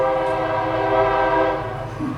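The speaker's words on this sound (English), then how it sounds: "It's a railroad train." A railroad train sounds a loud, sustained horn blast that holds steady for over two seconds, then begins to fade, with the rumble of the passing train beneath it.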